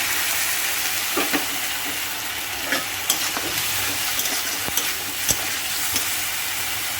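Chopped onions frying with ginger-garlic paste in a pan, a steady bright sizzle broken by repeated scraping stirs of a spoon, close and moderately loud with no speech.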